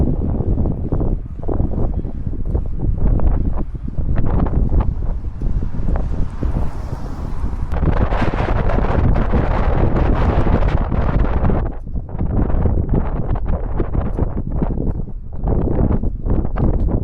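A strong headwind buffets a cyclist during a long road ride from Mallorca toward Mont Ventoux, roaring and rumbling loudly against the microphone in gusts throughout, with no talking.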